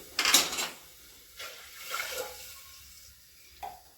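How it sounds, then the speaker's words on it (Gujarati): About two glasses of water poured into a cooking pot of bottle gourd and lentils: a louder gush at the start, then softer sloshes spaced out over a few seconds, close by. "બે ગ્લાસ જેટલું આપણે પાણી નાખી દઈએ"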